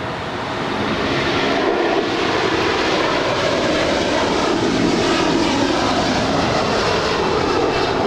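An Aerologic cargo aircraft at LAX produces a loud, sustained jet roar that holds steady throughout, dense and continuous with no voices over it.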